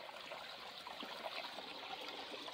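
Water flows steadily from a hydraulic ram pump with a differential valve, running at a reduced volume as a continuous trickling rush at moderate distance, with no voices.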